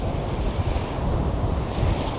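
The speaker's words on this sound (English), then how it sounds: "that's just the fucking ocean being blown" Ocean waves blown by strong wind roar as a dense, continuous wash of noise with gusty buffeting on the microphone, close and steady with no voice.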